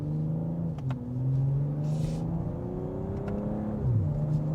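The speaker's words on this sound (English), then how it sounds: "you cannot beat the sound of an inline 6" A 2025 BMW M340i (G20) inline-six in sport mode with the transmission in manual, revving hard under acceleration with rising and falling harmonic engine tones, loud and close, no talking.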